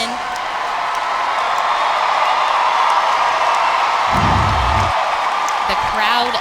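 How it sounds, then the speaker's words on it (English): Arena crowd at a Missouri at LSU gymnastics meet cheering a floor routine, a broad steady roar of voices with whoops, loud and sustained, while a commentator talks over it. "The crowd loves that floor routine. They're all on their feet."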